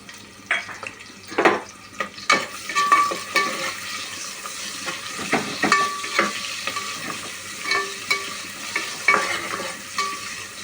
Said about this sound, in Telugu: నూనె హీట్ అవుతుంది. కాగిపోయింది. ఆనియన్స్ వేసాను, 2 పచ్చిమిర్చి వేసాను.